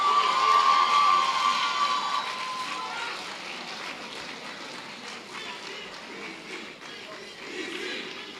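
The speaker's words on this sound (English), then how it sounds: "Shall we give him a round of applause?" A graduation ceremony crowd cheers and claps, loud at first with a high whistle, then settling into a steady wash of applause and shouts.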